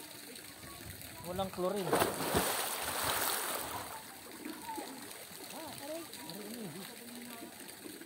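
Spring water flows continuously into a campsite swimming pool, a steady rushing splash with a brief louder surge, heard mid-distance beneath people chatting casually.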